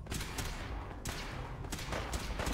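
Dense gunfire from a firefight in Fallout 4, with a continuous loud fusillade of overlapping shots and brief gaps between bursts, heard up close with no talk over it.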